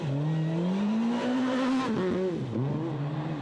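A rally car in the Asia-Pacific Rally Championship in Malaysia drives close by, its engine rising in a loud, continuous rev, then dipping and climbing again through gear changes.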